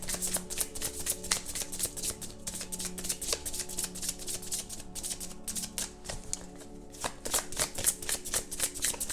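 Oracle cards shuffled for a card reading, a steady run of dense riffling snaps and flutters that keeps going throughout, close and fairly quiet with no voices.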